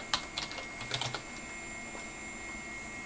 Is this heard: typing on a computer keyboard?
yes